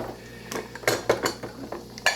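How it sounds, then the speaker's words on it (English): Washed dishes are set down one after another onto a pile in a home sink, a string of close ceramic and cutlery clinks and clatters at irregular intervals with no talking. "All right, so these are just gonna go into the pile."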